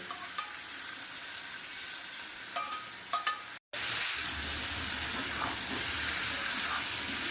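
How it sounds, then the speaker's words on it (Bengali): Shrimp fry in a pan with turmeric, sizzling steadily while a utensil stirs with a few clicks; after a brief cut the sizzle returns louder and fuller. "চিংড়ি মাছটা মিশিয়ে দিয়ে ভালো করে একটু ভেজে নেব"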